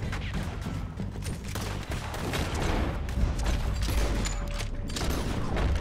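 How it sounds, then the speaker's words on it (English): Dense, continuous gunfire from a shootout in Red Dead Redemption 2, a steady barrage of overlapping shots with clatter, loud and sustained with no talk. "Oh, you can shoot multiple people at once."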